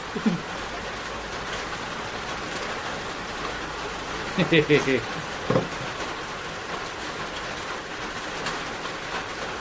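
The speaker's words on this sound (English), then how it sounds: "the rain in the background sounds relaxing" Steady rain hissing as a constant background wash, with a few brief louder knocks and a short voice-like sound partway through.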